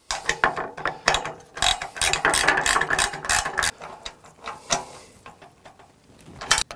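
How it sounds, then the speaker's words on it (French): Ratchet wrench tightening a bolt and nut on a gate-post mounting plate for an aluminium sliding gate, a rapid series of crisp metallic clicks in bursts, close and loud with brief pauses between strokes. "je serre la fixation"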